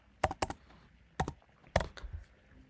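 Keystrokes on a computer keyboard as a command is typed into a terminal, a few sharp clicks in two or three quick bursts, close and fairly quiet, with no talking.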